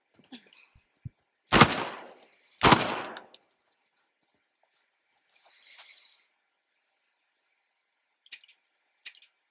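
Two loud, close gunshots in the video game The Last of Us Part II boom about a second apart with short decays, surrounded by quiet and a few faint clicks and later small sharp cracks.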